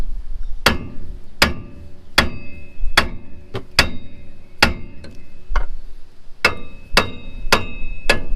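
A big hammer strikes a tie rod on a 2005 Chevy Silverado again and again, about a dozen sharp, loud metallic blows close by, coming in an irregular but steady rhythm.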